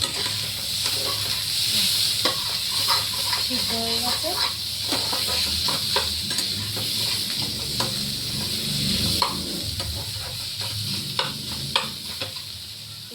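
Food fries in a covered pan with a steady sizzling hiss, broken by sharp clinks and scrapes as it is stirred and turned, while someone talks briefly over the cooking.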